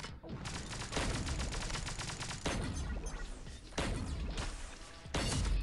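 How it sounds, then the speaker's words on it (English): A firework weapon fires repeatedly in the Pixel Gun 3D video game, a dense rapid volley of explosive bursts broken into several loud bouts, with no talking. "they brought the firework out to play"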